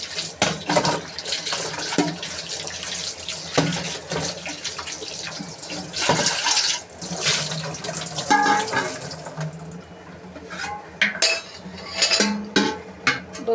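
A copper or brass pot is washed at home under running water, with a steady splashing tap stream, sloshing and occasional clinks of the metal vessel, close up and without talk.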